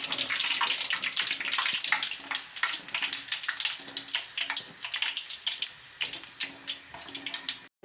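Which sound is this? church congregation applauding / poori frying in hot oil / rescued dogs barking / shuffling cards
poori frying in hot oil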